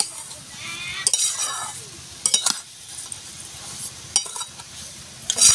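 Sugar is stirred into carrot halwa frying in a pan: a few short scraping bursts of a spoon against the pan rise over a steady, low sizzle, close by.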